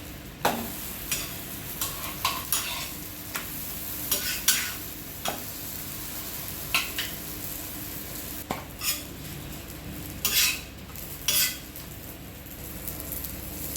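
Parotta sizzles in oil on a flat griddle, a steady close frying hiss broken by repeated sharp scrapes and taps of a metal spatula turning and pressing the bread.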